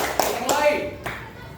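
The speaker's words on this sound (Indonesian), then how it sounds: "Tepuk tangan untuk kita sendiri." Schoolchildren in a classroom give themselves a quick round of hand claps, a short burst of slaps mixed with children's voices.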